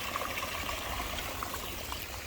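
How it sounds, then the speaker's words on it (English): Water trickling and flowing steadily in a backyard pond, a continuous soft wash of splashing close by with no other sounds over it. "it makes for a nice, pleasant little evening sitting on the deck upstairs and hearing the water"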